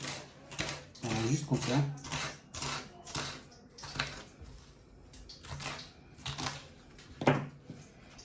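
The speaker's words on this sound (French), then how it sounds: "On va grossièrement couper notre oignon." An onion roughly chopped with a knife on a cutting board, a series of irregular sharp knocks spread across several seconds, close and clear, with someone speaking briefly partway through.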